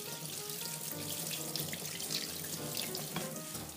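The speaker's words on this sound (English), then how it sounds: "we're gonna give it a quick rinse with some cold water" Cold tap water runs steadily into a sink while salmon roe is rinsed in a strainer, a continuous close splashing stream with no one talking.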